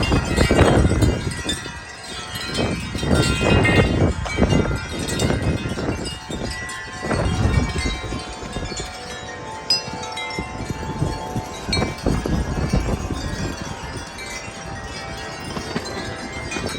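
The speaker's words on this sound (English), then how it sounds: "Is there a gust coming?" Strong wind gusts buffet the microphone on a very windy day, with loud, surging rumbles that rise and fall in waves, strongest at the start and easing slightly later, with no talking.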